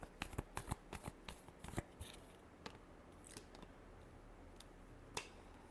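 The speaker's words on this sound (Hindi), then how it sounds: "Last shuffle." Tarot cards are shuffled in quick bursts of sharp, close riffling snaps early on, then soft faint handling with a few isolated clicks, all quiet with no talk.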